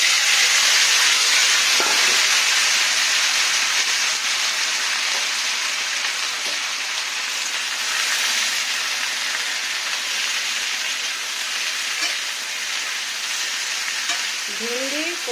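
Okra, pointed gourd and taro tumble into hot oil tempered with dried chillies and cumin, setting off a loud hissing sizzle that fades slightly and settles into steady frying, with a few faint clinks.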